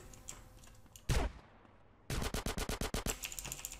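Weapon fire in an MTA battle royale match: a single sharp shot with a fading tail, then a fast run of about ten evenly spaced rounds, fairly quiet overall.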